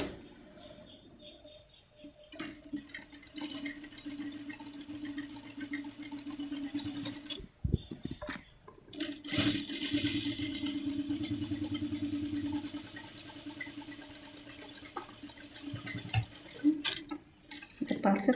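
A sewing machine with a standard presser foot stitches a quarter-inch seam on dress fabric, running in two steady whirring, ticking stretches split by a brief pause, close and fairly quiet.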